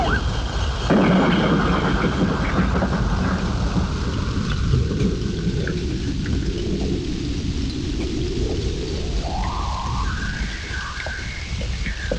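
Heavy evening rain pours down steadily with dense hiss, while deep thunder rumbles and rolls loudly through the whole stretch, fading into a lower growl toward the end; no voices.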